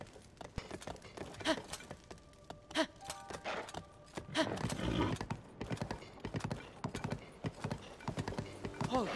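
In the video game The Legend of Zelda: Tears of the Kingdom, a horse's hooves clip-clop in an irregular rhythm, close and clear, along with snorts, whinnies and breathy sighs, while a person speaks intermittently.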